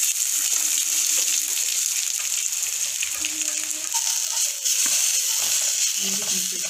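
Cinnamon, bay leaf, onion and tomato sauté in a pan with a continuous bright, hissing sizzle, steady and close, with faint stirring clinks and no talk over it.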